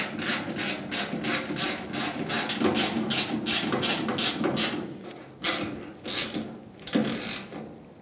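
A ratchet snugs down the tailgate latch bolts on a 1988-1999 GMC K1500 pickup, a rapid close clicking and rasping that runs in bursts, then slows to a few separate turns.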